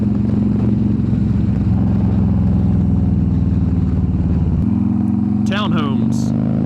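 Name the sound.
motorcycle exhaust while riding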